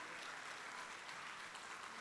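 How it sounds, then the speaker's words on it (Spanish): Church congregation applauding in a steady, dense wash of clapping that fills the whole moment without pause, with no voices standing out above it. "Dele un aplauso a Jesús."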